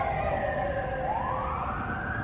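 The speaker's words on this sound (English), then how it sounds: "There's a siren." A wailing emergency vehicle siren sweeps up and down in pitch, steady and fairly loud over low background traffic rumble, carrying on continuously without any voices.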